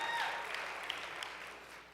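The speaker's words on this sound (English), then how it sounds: "A round of applause." Applause from an audience at a Dartmouth Class of 2018 welcome event, a steady, fairly faint wash of clapping that continues evenly throughout with no voices on top.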